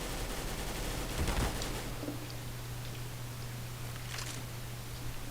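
Gunfire in the CS:GO video game comes as short bursts of shots, one early and one later, somewhat distant over a steady background hiss and hum.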